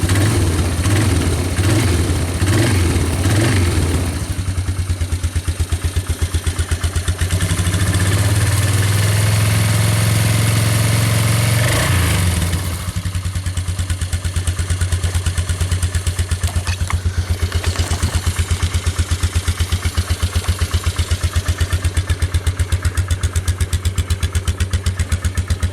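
A Polaris ATV engine idles after its first start-up of the year, a steady loud low rumble throughout, with a short stretch of higher revving in the middle before it settles back to idle.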